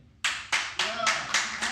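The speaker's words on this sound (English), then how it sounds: "By show of applause, who thinks Your Inner Child is an idiot?" A live audience at a Nashville podcast taping claps in short bursts, a rhythmic series of about six loud, close pulses of applause.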